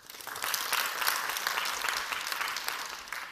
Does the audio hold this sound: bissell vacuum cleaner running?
no